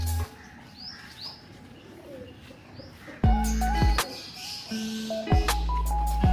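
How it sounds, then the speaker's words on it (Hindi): Pigeons with heavily feathered feet coo and call nearby over a background hum, with louder, sharper sounds breaking in during the second half. "3 या 4 कबूतर हैं जिनके पैरों पे इतने ज़्यादा बाल हैं"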